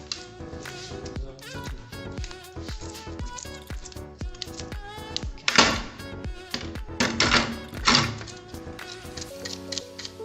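Scales are scraped off a fish being cleaned for frying, producing rapid, irregular close-up clicks and scratchy rasps, with a few louder scraping bursts midway.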